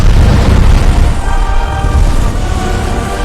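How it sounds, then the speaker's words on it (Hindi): Loud, booming explosion sound effect in a Hindi witch-and-fairy story, a single broad blast that rumbles and slowly fades. "जोरदार धमाका हुआ"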